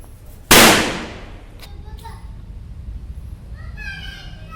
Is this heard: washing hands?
no